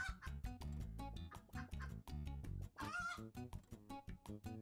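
Chickens in the Turnip Boy Commits Tax Evasion video game cluck in short repeated bursts over a steady, rhythmic game music track.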